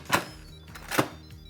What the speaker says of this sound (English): Secure the lid.